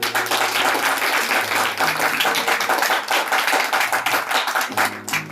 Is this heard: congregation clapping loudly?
yes